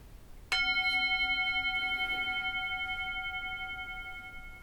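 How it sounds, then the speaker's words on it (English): A single clear meditation bell strike rings out, its pure metallic tone sustaining and slowly fading over several seconds in a quiet room. "So I'm going to ring the bell."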